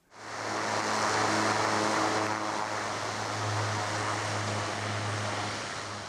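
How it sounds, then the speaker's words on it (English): Airplane flying near Kathmandu, a continuous loud engine drone with a steady low hum that stays close and constant throughout, no voices. "Planes are carrying only bags and fresh hopes."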